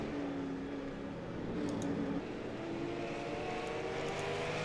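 Race cars lapping Stafford Motor Speedway, a steady broad engine drone with sustained tones sliding in pitch as cars pass, continuous and fairly distant throughout.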